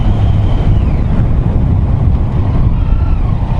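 Crosswind gusts across a city intersection on a windy day, a loud continuous rumbling roar of wind buffeting the microphone with faint traffic mixed in.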